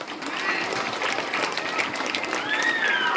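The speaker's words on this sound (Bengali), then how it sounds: "ম্যামের জন্য হাততালি দিয়েছিস?" Schoolchildren clap for their teacher at a school prize-giving ceremony, with steady, dense applause continuing throughout.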